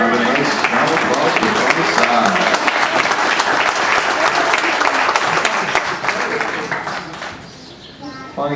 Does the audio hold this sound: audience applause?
yes